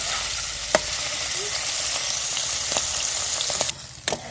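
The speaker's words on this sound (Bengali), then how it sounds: "দিয়ে আমি চিংড়িগুলো ভেজে নেব।" Prawns fry in hot oil in a wok, giving a continuous bright sizzle at close range, broken by a few sharp clicks and spatters.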